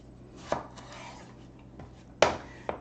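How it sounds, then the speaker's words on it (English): A knife cutting food into wedges on a board, with a few distinct sharp chops spaced irregularly, close by, against a quiet kitchen background. "we're gonna cut these into wedges"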